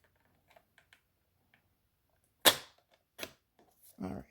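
Scissors cut through card paper in a few sharp, close snips separated by quiet pauses, the first one loudest.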